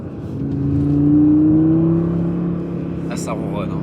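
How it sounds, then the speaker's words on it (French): An Audi five-cylinder turbo engine revving, a rising and falling throaty hum that swells then eases, moderately close, with a brief hiss near the end. "Ah, ce 5 cylindres turbo, c'est magnifique."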